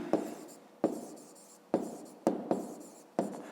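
Pen or pencil writing on paper during a fifth-grade math exercise, six distinct stroke bursts at uneven intervals, each a sharp scratch fading quickly, close and clear with no talking.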